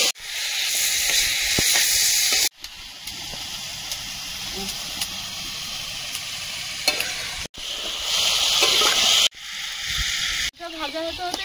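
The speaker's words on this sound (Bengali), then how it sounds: "আলুটা সুন্দর করে ভেজে নেব" Potatoes frying in oil with salt and turmeric, a loud, steady broadband sizzle and hiss interrupted by brief gaps, with stirring clicks and a short voice near the end.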